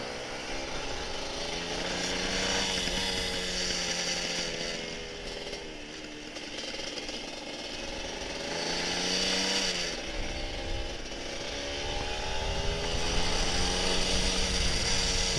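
A two-stroke Kawasaki Ninja RR 150 motorcycle engine buzzes and revs up and down with a rough, rattling fault noise running through it, sustained and close with no talk.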